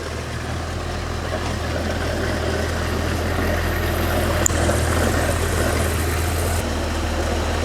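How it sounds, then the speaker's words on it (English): A junkyard Ford 289 V8 that sat for over 45 years runs on a dyno. Its exhaust makes a steady, deep rumble that holds even throughout, loud and alone with no talking. "That has a real nice rumble sound to the exhaust."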